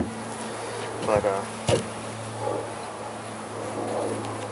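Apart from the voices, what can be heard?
honey bees buzzing while hiving a bee package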